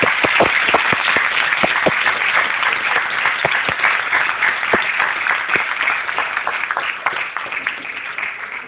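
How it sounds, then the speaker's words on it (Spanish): An audience applauds at the end of a lecture on poetry, with sustained clapping near and loud and sharp individual hand claps standing out throughout, easing slightly toward the end. "Y ahora vamos a despedir, como segunda noche, con fuertes aplausos para Ricardo González y la poesía de la..."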